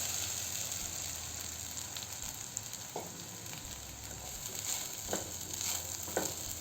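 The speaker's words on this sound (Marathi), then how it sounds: "यात साबुदाणा घालू भिजवलेला" Soaked sabudana (sago) sizzles with green chillies in a pan over low gas, a steady soft frying hiss with a few brief stirring scrapes, and no voices.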